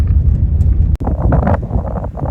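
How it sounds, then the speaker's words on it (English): Heavy, low rumbling wind of up to 100 mph during a Kansas wildfire buffets the microphone continuously, with one abrupt brief dropout partway through. "Just an example of how windy it got."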